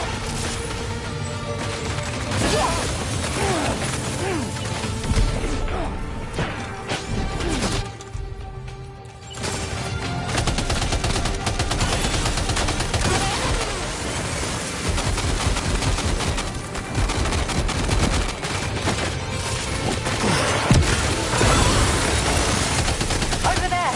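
Dense gunfire from a firefight in the video game Death Stranding 2: sustained loud bursts and rattling shots layered with game sounds and voices, easing briefly in the middle before resuming at full intensity.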